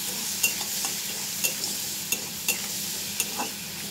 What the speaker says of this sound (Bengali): সবজিগুলো ভালো করে নেড়ে নিয়ে জল দিয়ে ফুটতে দেবো।